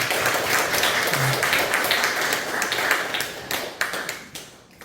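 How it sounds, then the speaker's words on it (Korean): A church congregation applauds during a Sunday worship service, with steady dense clapping that fills the room for several seconds before thinning out and fading near the end. "박수도 한번 해주십시오"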